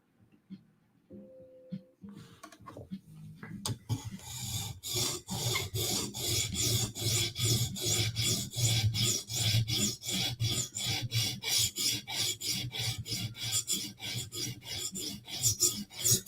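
A knife blade is drawn across a whetstone in steady, evenly spaced rasping strokes. A few quieter scrapes come first, then a long, regular sharpening rhythm follows close up.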